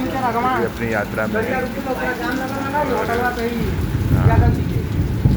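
Steady rain falls outdoors beside a sand market, a soft continuous hiss beneath someone talking in the foreground.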